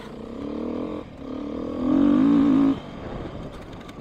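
Kawasaki KDX 200 dirt bike riding off-road, engine note rising and falling at mid distance, then climbing into a sharp high-RPM rev before easing off.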